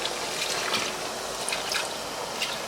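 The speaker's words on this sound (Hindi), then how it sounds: "अब मैं इसमें डालूंगी पानी" Water is poured into a pan of chicken mince being cooked for chicken rara, a close steady trickling and splashing sound with small drips, no talking.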